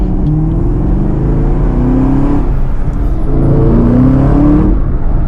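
A Chevrolet Camaro ZL1 engine rumbles steadily with rising and falling revs as it brakes and downshifts into a turn, loud and close with no voices.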